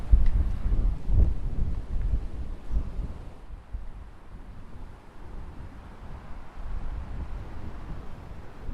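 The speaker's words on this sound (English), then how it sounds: "This is very, very windy. The wind's getting up." Strong wind gusts outdoors beside Torside reservoir in Longdendale, a continuous rushing roar buffeting the microphone, heavier at first and then easing slightly, with no voices.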